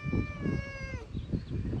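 A shop cat gives one drawn-out, loud meow close by, its voice gliding downward before it breaks off, with a workshop hum running beneath it.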